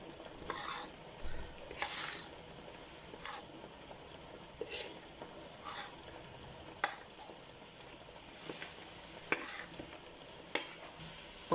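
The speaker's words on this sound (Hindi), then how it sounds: "और मैं इसे मिक्स कर देता हूँ अच्छे तरीके से।" Gram flour being stirred into lassi for kadhi pakora, a soft, quiet scraping and swishing that comes in short repeated strokes, with faint clicks against the pot and no voices.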